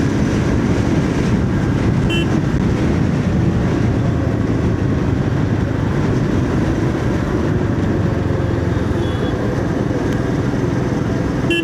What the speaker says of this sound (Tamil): போகுது வண்டி.